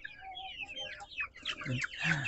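Chickens clucking in a sand-floored coop, a busy overlapping run of clucks and squawks close by, growing fuller and louder toward the end.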